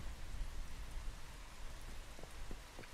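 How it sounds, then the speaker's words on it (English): Steady rain falls in the Once Human video game, a dense, even hiss of drops with a few faint pattering taps near the end and no voices. "It fucking rains all the time here."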